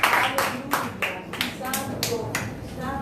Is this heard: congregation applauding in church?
yes